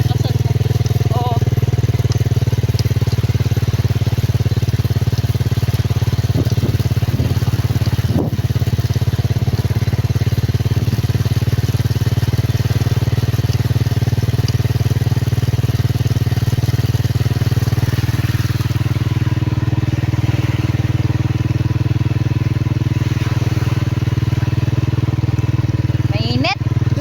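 A motorcycle engine drones steadily and loudly throughout a ride, with a constant low rumble and wind buffeting.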